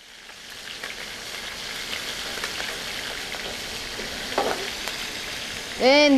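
Fish pan-frying at home gives a steady, close sizzle and crackle that runs throughout, with a few faint scrapes, then a brief rising electronic tone at the very end.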